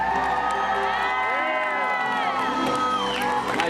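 A crowd of spectators, children among them, cheers loudly at a Universal Studios dog show for a dog named Kylie, shouting and whooping in a continuous roar.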